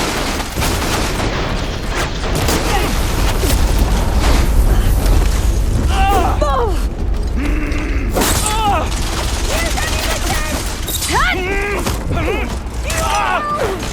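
Weapons fire in the game Horizon Forbidden West, dense continuous booms and blasts layered with mechanical whirs and sweeping chirps, loud and sustained throughout, with a voice shouting over the din.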